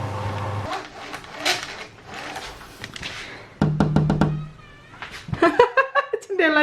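A cat meows several times in a home kitchen while food is being prepared, its short cries mixed with nearby talking and household noise.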